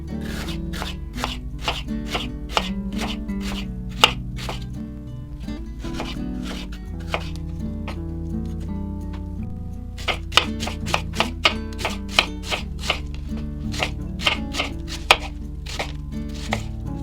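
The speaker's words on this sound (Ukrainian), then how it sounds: "займусь цибулькою, поріжу її напівкільцями." A knife chops a large onion, about 250 g, into half rings on a board: steady, rapid, close cutting strikes in long runs with a short pause midway, no talking.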